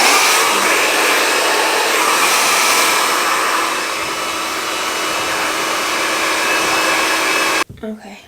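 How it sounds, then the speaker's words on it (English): A hair dryer on its cold setting blows with a loud, steady whoosh for several seconds, then cuts off abruptly near the end. "I'm just gonna grab my blow dryer"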